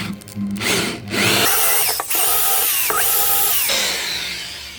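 A power drill with a hole saw grinds loudly into wood, its pitch rising and dipping as it bites, with a brief pause before cutting resumes.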